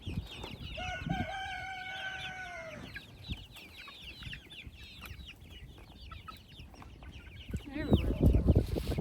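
A rooster crows loudly up close, with chickens clucking and chattering around it, ending in a burst of busy flock noise.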